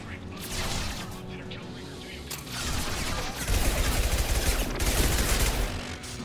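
Rapid gunfire from the Mass Effect 2 video game, bursts of shots and impacts running through the clip, growing heavier and louder in the second half.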